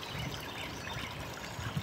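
Water spilling over the rim of a newly installed replacement fountain bowl, a soft, close trickle and patter running steadily without talk.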